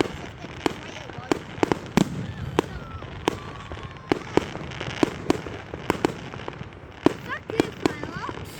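Bonfire Night fireworks in Elgin burst in a string of sharp, irregular bangs, about a dozen distinct cracks at varied distances over a low background, with people talking between them.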